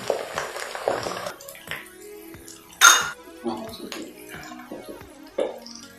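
Bitter gourd is washed in water in a kitchen vessel: splashes, sloshing and clinks of the container come and go in uneven bursts, with a person's voice heard at times.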